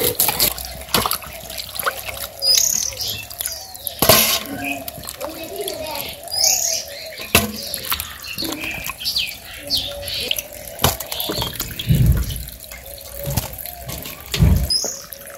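Bottle gourd being washed under running water in a village kitchen, an uneven trickle and splash close by, with voices talking, a child among them, and birds in the background.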